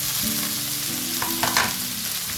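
Ginger and garlic sizzle and crackle in hot oil, with a brief stirring scrape partway through.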